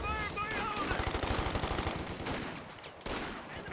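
A garrisoned MG42 machine gun fires in a wartime strategy game: a fast, rattling stream of shots for about two seconds that fades into echoing battle noise, with a sharp report near the end.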